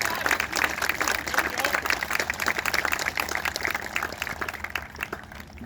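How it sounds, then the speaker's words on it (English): Applause from an audience at an air assault graduation ceremony, a steady spatter of clapping held for several seconds with crowd murmur and voices mixed in beneath it. "Please join me with a round of applause."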